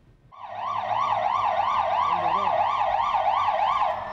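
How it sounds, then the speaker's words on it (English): Police siren wailing in a fast, steady up-and-down sweep outside a Madrid court as terror suspects arrive, rising in after a brief moment and sounding loud and continuous, with faint traffic beneath. "You could hear police sirens as 4 terror suspects were taken to court in Madrid today."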